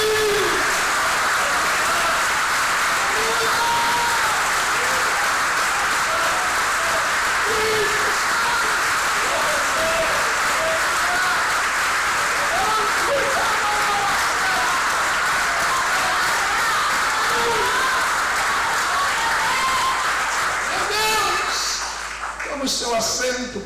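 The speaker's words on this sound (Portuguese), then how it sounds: "Você pode desocupar as suas mãos e pode dar o melhor aplauso a Ele." A church congregation applauding during a worship service, dense sustained clapping from many people filling the room, with voices mixed in, fading near the end.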